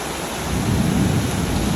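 Heavy rain roars steadily over everything while a deep rumble of thunder swells underneath, loud and close, with no one speaking.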